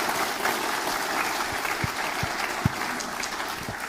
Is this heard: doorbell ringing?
no